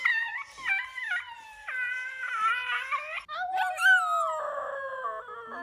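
An Alaskan Klee Kai dog howls and yips in a long, wavering, tonal run of rising and falling wails, close and fairly loud, with short breaks and no talk.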